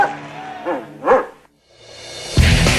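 A dog that has just made a record high jump, climb and retrieval lets out a few close, sharp barks and yips, followed by a short silence and a rising burst of noise.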